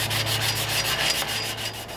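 Sandpaper of 120 grit rubs over a hot rod interior panel, a continuous close scratchy hiss in quick back-and-forth strokes, with no talking.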